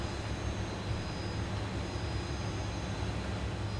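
A classic airliner's engines run at takeoff power in a flight simulator, giving a steady, loud, unbroken roar with no voices over it.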